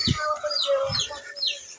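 A chicken kept for breeding clucks and squawks close by in a few quick rising and falling calls, with soft low thumps underneath.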